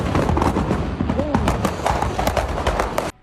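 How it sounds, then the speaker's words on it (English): Illegal fireworks explode next door on a residential street on the Fourth of July at night, a loud dense barrage of rapid crackling blasts that cuts off abruptly, with voices shouting underneath. "their neighbor's illegal fireworks went off next door"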